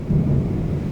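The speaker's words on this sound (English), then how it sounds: "Whoa! That is so loud. This is what you call a storm." A deep, loud rumble of thunder rolls through a brief moment during an extreme thunderstorm, heavy low-end energy without a sharp crack.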